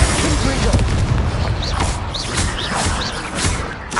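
Spell explosions from Confringo and Bombarda in the video game Hogwarts Legacy: repeated booming blasts and crackling bursts under a voice continually calling out spell names, with busy game sound filling the background.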